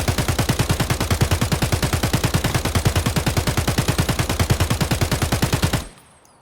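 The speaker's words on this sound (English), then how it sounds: "we're going to put this 60 rounds downrange and see if we can see the tracers" Sustained automatic fire of tracer rounds in the game Escape from Tarkov, a loud rapid string of evenly spaced shots that stops abruptly near the end, leaving near silence.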